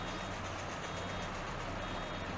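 A baler in Farming Simulator 22 gives off a steady warning beeping that runs on without pause, sitting inside a loud, constant wash of machine noise.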